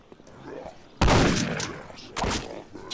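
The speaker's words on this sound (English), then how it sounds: "Shotgun isn't as satisfying as I remember it being." A shotgun fires twice in a video game, each a loud broadband blast at close range followed by a decaying rumble, with a brief sharp report near the end.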